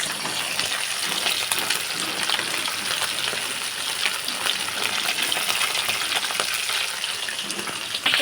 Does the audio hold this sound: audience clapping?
no